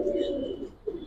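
A Rabbani-blood male pigeon at a loft coos in a steady low rolling call, close and clear, with a brief second coo near the end.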